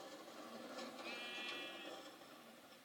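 Sheep bleating in the Minecraft video game, a single drawn-out bleat from a sheep riding a minecart on a roller coaster, heard alone over a faint steady background.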